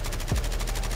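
Rapid SMG fire in Modern Warfare 3, a double-barrel submachine gun spitting a fast, even burst of loud close shots with a strong low thump near the start.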